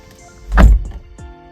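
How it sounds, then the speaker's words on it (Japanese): The door of a parked Mitsubishi Outlander PHEV is slammed shut in one loud, close thunk, followed by a faint rattle and low steady hum in the quiet car. "ではドアを閉めます。"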